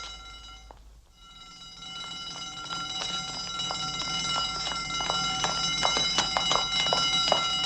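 Alarm blaring alone at a secret defence base, a steady electronic tone with layered harmonics after a short drop, swelling louder over several seconds with faint clicks and knocks beneath it.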